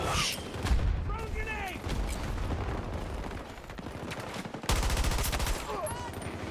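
Gunfire in the shooter game Battlefield 2042: rapid automatic bursts and bangs fill the mix, loud and dense, while players talk over them.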